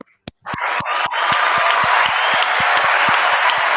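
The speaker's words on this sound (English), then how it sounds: "I clapped." Rhythmic hand clapping in a home setting, a few sharp isolated claps followed by a steady run of close, bright claps over a continuous wash of crowd-like applause noise.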